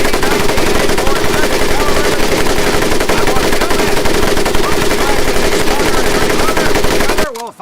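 Sustained, loud automatic weapon fire from a soldier's gun in the World War II shooter game Medal of Honor, rattling continuously for about seven seconds before cutting off abruptly.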